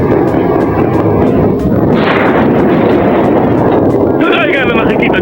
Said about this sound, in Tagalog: may mga pagsabog na nagaganap ngayon